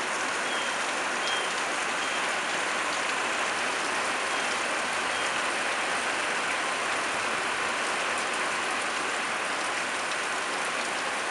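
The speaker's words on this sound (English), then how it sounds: "It's actually raining lighter now." Rain falls steadily outdoors on a street after a long drought, a dense, even hiss of drops on surfaces that holds at the same moderate level throughout with no voices.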